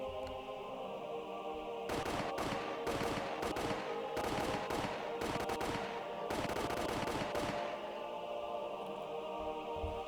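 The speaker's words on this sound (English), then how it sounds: "The sound of the gunshots echoed in the silence." Bursts of video game gunfire crackle in several volleys, soldiers firing at escapees, loud and dense against a steady background drone, then stop, leaving the hum alone.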